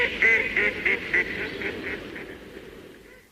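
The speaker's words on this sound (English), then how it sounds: "all I heard was cluck, cluck, cluck, and quack, quack, quack from Mrs. Duck." A duck quacking as a farmyard sound effect on a children's record: a run of nasal calls, loud and close at first, then repeating more softly and fading out.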